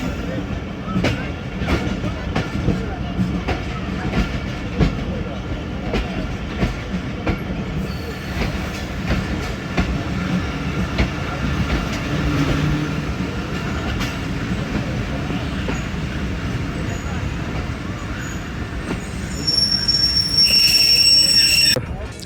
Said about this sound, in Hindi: हमारी ट्रेन मूव हो रही है गुजरांवाला से